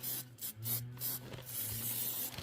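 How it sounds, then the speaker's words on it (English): Quick bursts of spray adhesive misted onto small appliqué quilting pieces, several short hissing puffs in a row at close range with light rubbing between, no talking. "Let's give them all a little shot of spray"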